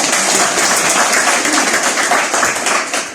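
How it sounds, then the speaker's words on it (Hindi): An audience applauds the management team and business partners at a DXN company gathering: loud, dense clapping from many hands, steady for about three seconds before tapering slightly at the end. "सबके लिए एक जोरदार ताली होना चाहिए"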